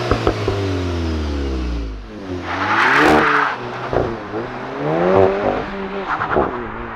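A 2022 Volkswagen GTI with a manual transmission revs from outside the car, its exhaust rising and falling in several throttle blips against a limiter, loud and close, with voices talking briefly in between.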